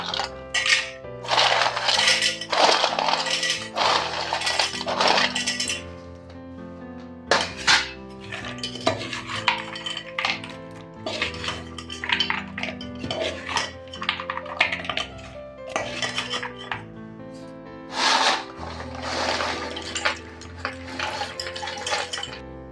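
Fried gavvalu pasta shells stirred into hot jaggery syrup with ghee in a metal pot, giving busy, repeated clinks and scraping clatter of a spoon against the vessel, fairly loud and close with brief pauses.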